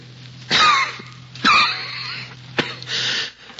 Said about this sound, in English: I cough.